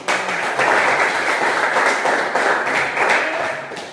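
A class claps for a student presentation, steady dense clapping for about four seconds with no speech over it.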